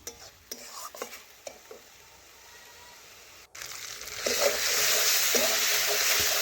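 Boiled eggs tossed with salt and spices in a pan, a few light stirring scrapes and taps over a quiet background, then a louder, steady frying hiss takes over for the last couple of seconds.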